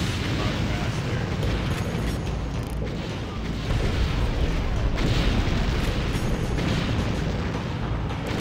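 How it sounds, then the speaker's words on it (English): Loud, continuous rumbling blast from a rocket explosion in the first-person shooter Far Cry, broad roaring noise sustained throughout with slight surges, a voice talking over it. "Oh, that was a nice rocket."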